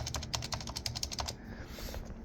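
Typing on an Acer 6511 keyboard fitted with Acer dome-with-slider switches: a quick, even run of close, crisp keystrokes that stops after about a second and a half, leaving quiet room hum.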